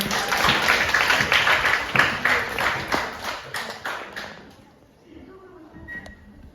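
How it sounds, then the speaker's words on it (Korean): An audience at a university early childhood education department practicum review in a hall claps for professors, a crowd's brisk applause that fades out after about four seconds into quiet room noise. "바쁘신 와중에도 참석해주신 교수님들께 큰 박수 부탁드립니다"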